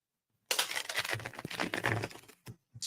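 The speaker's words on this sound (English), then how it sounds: "so I'm going to have to shuffle it properly." A tarot card deck is shuffled by hand in a crisp, papery burst of riffling and flicking that lasts about two seconds, then trails off into a few short taps near the end.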